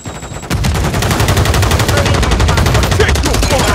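Rapid automatic gunfire in a Call of Duty stash house mission bursts in after a short quiet lead-in, then rattles on loudly and continuously at close range.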